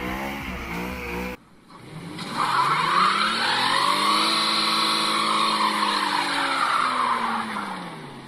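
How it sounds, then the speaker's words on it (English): A front-wheel-drive car does a smoky burnout, its tires screeching loudly and steadily over a revving engine for several seconds after a brief cut. "A front wheel drive burnout entry, and he had more smoke than the GMC pickup"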